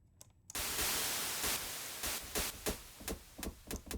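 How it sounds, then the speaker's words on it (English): A burst of steady, full-band unfiltered white noise from a synthesizer starts abruptly and holds, with a few sharp clicks breaking through near the end. "So let's go noise, white noise, and no filtering"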